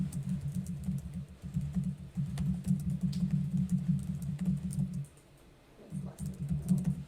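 Steady typing on a computer keyboard during a statistics class recording, with quiet, rapid key clicks running continuously and a short pause before the typing resumes.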